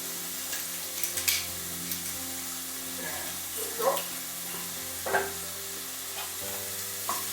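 Garlic, about three cloves, fries in a pan and is stirred around, giving a steady low sizzle under a few sharp scrapes and clinks of a utensil, with a constant background hum.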